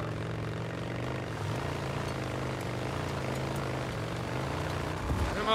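Helicopter in the video game Days Gone, a steady droning rotor and engine hum holding at a constant, fairly loud level throughout, with game sounds layered over it.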